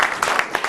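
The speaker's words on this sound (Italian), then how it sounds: "Un applauso a Cinzia" Applause from an audience at a swimming federation event, a short burst of close, dense clapping with no voices over it.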